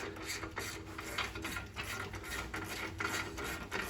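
An 18 mm wrench tightens a caliper bracket bolt on a Chevy Suburban, giving faint, quick ratcheting clicks and rasping strokes that repeat steadily at close range, with no talking.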